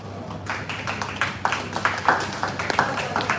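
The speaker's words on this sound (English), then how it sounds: "Thank you, Dato, for clapping." Scattered, uneven hand clapping at a charity check presentation in Hard Rock Cafe Kuala Lumpur, a handful of people clapping in a room.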